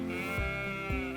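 Sheep bleat on a small farm raising a flock alongside cattle, two drawn-out, wavering calls close by and loud, one starting partway in and a second near the end, with no talk.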